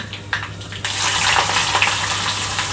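Mustard seeds, cumin and green chillies hit hot oil for a raw baingan bharta tempering, bursting into a loud, sudden crackling sizzle after a quiet start that then holds steady.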